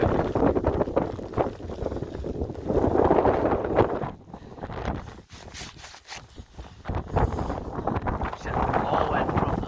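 Blizzard wind gusting and blowing snow, rough roaring surges buffeting the microphone, easing briefly in the middle before building again.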